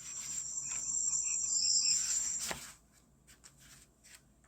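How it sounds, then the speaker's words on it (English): A steady high-pitched cricket chirring fills the first half, then cuts off, leaving near silence with a few faint ticks. "Pete hears an odd chirping noise. What is that? He asks out loud. Those are just the crickets."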